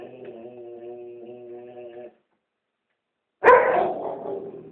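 A Newfoundland dog barks for attention, with a sustained tonal whine-like call, a short silence, and then one loud, close bark.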